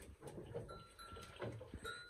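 Goats on a hillside farm bleat in short, faint calls scattered among soft background rustling and distant noise, with no talk.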